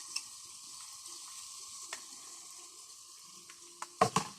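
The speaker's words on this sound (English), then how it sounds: "CO2 gas, which is the cause of the hissing sound" CO2 gas fizzing and hissing as magnesium carbonate reacts with citric acid in water, a soft continuous effervescent hiss with faint crackles, ending in a few sharper clinks and splashes.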